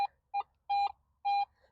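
Metal detector sweeping back and forth over a buried target, giving four short electronic beeps in an uneven rhythm, the later tones longer, clear and close with no talking.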